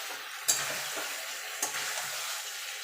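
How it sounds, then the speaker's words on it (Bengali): Vegetables are stirred with mustard-poppy paste in a hot pan for Bengali dudh shukto, giving a soft continuous sizzle broken by two sharp spoon scrapes. "এবার মিনিট খানিক সবজির সঙ্গে ভালো করে সর্ষে পোস্তটা মিশিয়ে নেব।"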